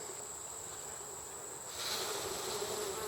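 Honey bees during a hive inspection, a soft, steady buzzing hum from many insects that swells slightly louder partway through, with no voices.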